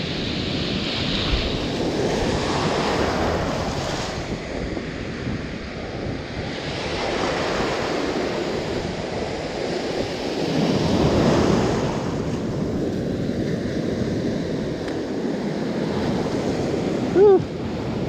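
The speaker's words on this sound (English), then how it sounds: "Nice wave out there." Ocean surf rolls and breaks along a beach at dusk, a continuous broad wash of waves swelling and fading, heavily mixed with wind buffeting the microphone, steady and fairly loud with no clear voices.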